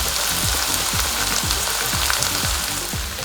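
Onion fries in a pan with a dense, loud, crackling sizzle, and a spatula sweeps through it in a rough rhythm of about two strokes per second, close up with no voices.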